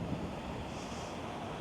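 Ocean waves surging up and over a sea wall, a steady broadband roar with wind buffeting the microphone throughout, loud and continuous with no distinct individual breaks.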